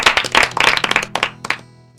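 A handful of people clap in a quick irregular patter that thins out and fades over about two seconds, close and fairly loud, with no talking over it.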